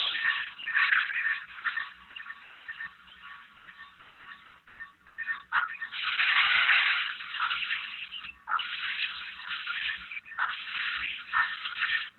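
Steady broadband hissing from a model steam locomotive's open cylinder cocks, rising and falling in bursts over several seconds with no talking.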